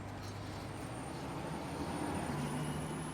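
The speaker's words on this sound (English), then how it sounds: "favorite thing about this Mack is the sound and how it changes gears" Mack truck in a driving video game, its engine droning steadily with harmonic tones that step down as it shifts gears, loud and continuous with no talk.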